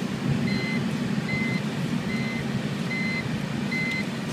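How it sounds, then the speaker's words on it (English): A seatbelt warning buzzer in a 2006 BMW Z4 3.0si sounds as a steady series of evenly spaced electronic beeps over a low road rumble from inside the moving car. "my driver has neglected to put his seatbelt on, so we have a buzzer going right now."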